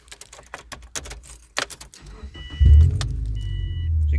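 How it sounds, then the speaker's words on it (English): A used 2005 Subaru Forester engine cranks and fires up after some clicking and handling noises, then settles into a loud, steady idle close by. "we'll start it up here so you guys can get kind of an idea of what it sounds like"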